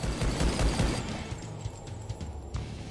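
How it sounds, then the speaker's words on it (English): Pistol shots from the 2013 Rise of the Triad video game, a loud burst of quick, sharp reports in the first second, then quieter scattered shots and clatter trailing off. "the pistol sounds really weird"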